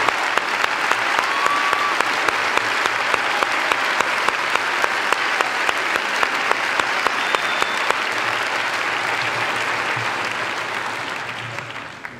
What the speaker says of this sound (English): face the audience for a round of applause